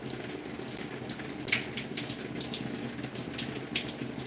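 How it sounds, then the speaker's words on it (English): Water runs steadily onto conditioned hair during a wash-day hair routine, a continuous splashing gush with small surges, close and alone. "just adding water to it so I can comb through with my fingers first"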